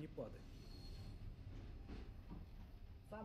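The Circum-Baikal express train rolls slowly along the rocky shore of Lake Baikal, a steady rumble of wheels on track with faint squeals, moderately quiet, with a voice partly heard over it.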